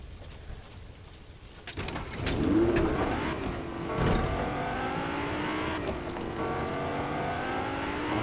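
A rusty Lamborghini's engine in Fortnite starts up after a quiet moment, then revs and holds a rising, droning pitch as the car accelerates, staying fairly loud and close.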